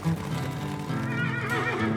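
Wild horses on the open pampa neigh and whinny in a long, wavering call, close and clear, with faint hoof sounds beneath.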